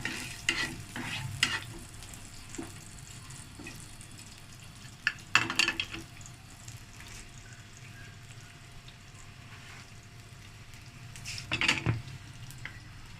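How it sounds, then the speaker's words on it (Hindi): Finely chopped garlic sautés in a pan with a faint, steady sizzle, punctuated by a few brief scraping clinks of stirring. "ज़रा सा जो लहसुन है वो सौते करना है थोड़ा सा"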